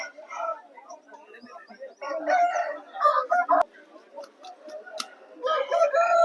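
A rooster crowing at a rooster market in Vijayawada, heard in several bursts among busy market noise, with people talking throughout.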